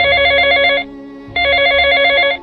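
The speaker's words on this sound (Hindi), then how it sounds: "तभी समीर को उसके फ़ोन की रिंग सुनाई दी।" A telephone rings in a horror story, two loud electronic trilling bursts separated by a short pause, close and clear with a low rumbling background.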